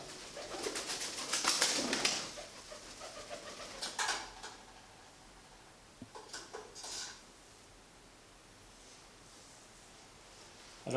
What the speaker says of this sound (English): come across a pretty excited pigeon